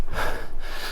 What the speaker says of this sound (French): je suis essoufflé, j'ai monté à fond.